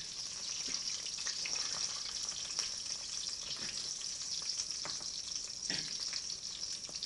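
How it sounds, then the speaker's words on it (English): Hash browns sizzle steadily in melted butter in a frying pan, a dense continuous crackle with occasional scraping stirs, close and fairly loud throughout, no voices. "let the butter kind of mix around with the hash browns"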